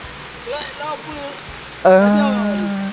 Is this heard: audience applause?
no